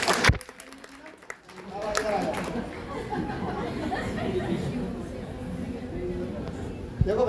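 A room of school students claps together, a dense, steady patter of many hands that swells in after a brief pause and carries on for several seconds, with voices chattering underneath.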